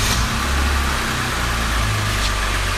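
An oldtimer car engine with a carburettor runs steadily near the microphone, its low rumble settling from a rev toward idle with no talk over it.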